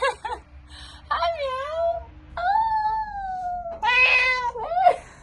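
A cat meows several times up close, drawn-out and wavering cries with short pauses between them, ending in a quick, higher call.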